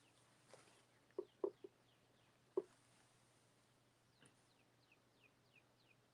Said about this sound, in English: I love hearing the birds chirp.